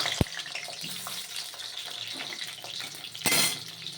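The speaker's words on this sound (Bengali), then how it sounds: "তেলটা আমার গরম হয়ে গেছে এরা মোটা মোটা পেঁয়াজ কেটেছি এগুলো আমি দিয়ে দেবো" Thickly cut onions dropped into hot oil for a restaurant-style chicken dish, a moderate bubbling sizzle with a sharp clack near the start and a brief louder burst toward the end.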